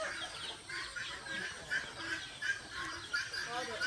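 Chickens on a Filipino provincial farm cluck faintly in the distance, a steady chatter of short calls in the open air.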